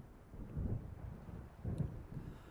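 Distant thunder from an approaching storm in Alan Wake rumbles low and faint, two soft rolling swells over quiet wind and water ambience.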